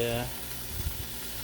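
Leftover bacon warming on a Blackstone griddle, a faint steady sizzle with a voice briefly talking over it at the start.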